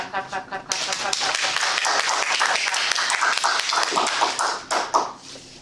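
An audience at a Toastmasters meeting breaks into a round of fairly close applause that swells suddenly and holds steady for several seconds. It thins out near the end with a few last scattered claps.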